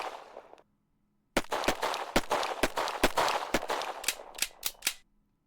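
Rapid volley of sharp gunshots in the video game The Coffin of Andy and Leyley, loud and close, about a dozen cracks fired in quick irregular succession after a brief silence, ending abruptly.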